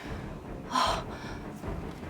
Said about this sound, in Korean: 아주 힘겹게 숨을 들이마시는 것 같아요.